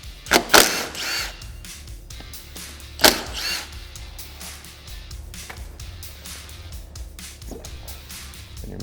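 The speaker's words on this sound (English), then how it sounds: "Now we're going to remove our two 8mm bolts" A power tool backs out two 8mm bolts on a Honda ATV front brake drum, giving two loud whirring bursts near the start, then quieter clinks and handling noises up close.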